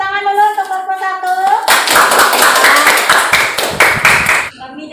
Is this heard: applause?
yes